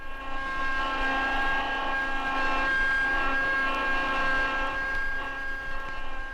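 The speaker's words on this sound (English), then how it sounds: "This is the sound of a typical 9-cylinder pump operating at 1800 RPM." A steady mechanical whine with strong tonal hum, a nine-cylinder hydraulic pump running at a constant speed, loud and unbroken throughout with no talking.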